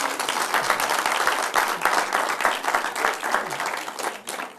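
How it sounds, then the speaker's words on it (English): An audience applauds loudly and steadily at a truck business event, dense clapping filling the room throughout with a slight fade at the end. "You deserve some applause."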